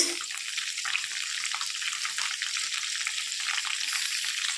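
Cut okra frying in a couple of tablespoons of hot oil with salt and turmeric, a continuous close hissing sizzle holding steady and fairly loud, with no voices.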